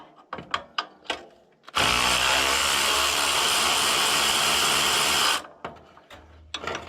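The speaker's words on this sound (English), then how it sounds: "Ain't no hill for a climber though with the electric ratchet. That makes things a lot easier." An electric ratchet loosens tractor seat bolts with a loud, close, steady whir lasting several seconds, framed by clicks and clanks of handling before and after.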